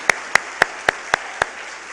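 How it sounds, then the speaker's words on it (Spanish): Applause for a Christmas choir comes as six sharp, evenly spaced claps, each one distinct and fairly close, with quiet gaps between them and no voices. "les damos otro aplauso"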